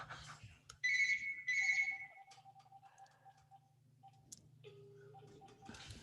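A phone rings in an office with a bright two-burst electronic ringtone, then softer melodic tones follow while a clock ticks steadily underneath, close and fairly quiet, with no talking.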